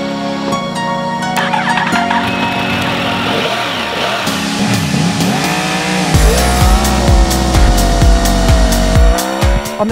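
2015 Yamaha R1 motorcycle accelerating hard along a 2.2-mile airfield runway, a loud high-revving engine climbing in pitch through repeated gear changes, each shift dropping then rising again, close and dominant.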